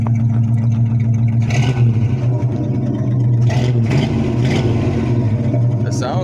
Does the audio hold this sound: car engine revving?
yes